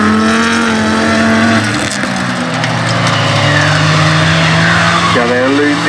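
A folkrace car's engine revs hard and shifts through the gearbox during a race, loud and close, with rising and falling engine tones and tire squeal over an excited commentator talking throughout.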